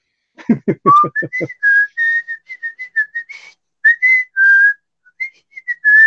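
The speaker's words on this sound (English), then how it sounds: "Okay, stop whistling. Don't whistle." A few quick knocks, then someone whistles a wandering tune of short and held notes, close and clear, with brief pauses between phrases.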